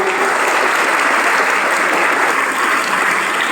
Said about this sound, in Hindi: तो एक बार मैं चाहूंगा कि अपने लिए एक बार जोरदार ताली